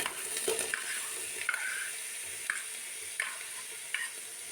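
Chopped pineapple sautés in ghee with a soft, steady sizzle, while a spoon scrapes the pan in short strokes about once a second. The sound is close but quiet, with no voices.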